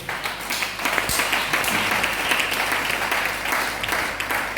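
A church congregation applauds with steady, sustained clapping that fills the whole moment, dense and fairly loud with no pause.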